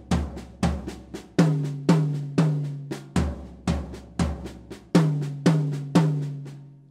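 A drum kit plays seven stroke roll fills with the accent hand on the floor tom and the other on a rack tom, giving repeated loud, rhythmic bursts of rolls ending in booming low tom hits, close and without talk.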